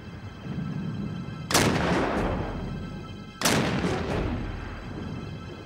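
Cannon fire aboard the ironclad USS Monitor, firing iron cannonballs with reduced powder charges against the armored CSS Virginia: two loud booming shots a couple of seconds apart, each with a long rumbling decay, over a steady background.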